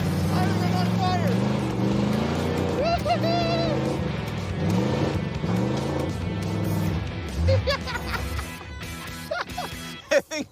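Race car engine running on a homemade dirt track, a continuous loud droning roar with rising and falling pitch as the car accelerates and turns, tapering at the end, with excited talk partly over it.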